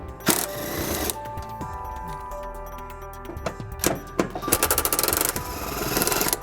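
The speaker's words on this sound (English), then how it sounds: "we're going to remove these two bolts on the bottom of the frame, and we're going to be using an 18mm socket to do that" A power wrench or impact tool works on the 18mm frame bolts under a 2004 Jeep Grand Cherokee, giving loud bursts of rapid rattling hammering separated by quieter stretches of ratchet clicks and metallic taps.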